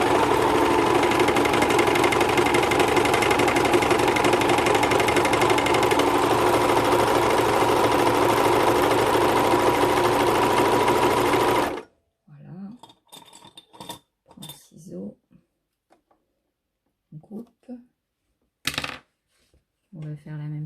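A serger runs at full speed stitching fabric for a needle holder, a loud, close, steady mechanical whirr for about twelve seconds that then stops, leaving scattered handling clicks and brief speech.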